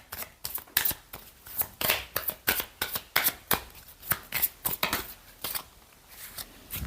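Lenormand oracle cards being shuffled by hand, a string of quick crisp riffling bursts in an uneven rhythm, close and clear with no voice over them.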